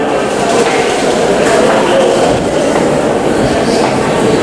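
A New York subway 7 train makes a loud, steady rumble with a rattling metallic clatter, heard close up and continuous throughout.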